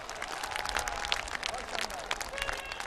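A large crowd at an outdoor public rally in Gorakhpur claps in a dense, continuous wash of applause heard from a distance, with a speaker's voice carrying over it throughout.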